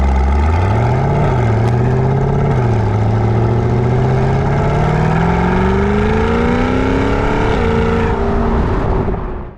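A Chevrolet C8 Corvette Grand Sport exhaust roars up close and loud, the engine note climbing through a couple of blips and then rising steadily in pitch through a long rev before cutting off at the end.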